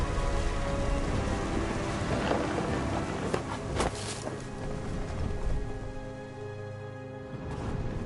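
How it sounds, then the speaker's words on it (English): Storm in the video game What Remains of Edith Finch, with steady rain and gusting wind, a couple of thunder cracks in the middle, moderately quiet overall. "The thunder sounded much too close and full of angry power."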